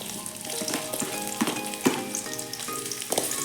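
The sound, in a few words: onion frying in hot oil in a pan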